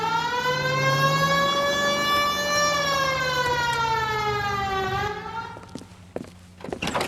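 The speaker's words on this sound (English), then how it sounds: "Hit the siren." 1940s Los Angeles police car siren in the L.A. Noire video game, a loud wailing tone rising and falling before cutting off, followed by engine noise and clunks.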